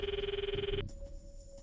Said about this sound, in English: I could hear the call sound in my ear.